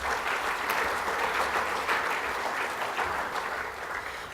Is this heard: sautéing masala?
no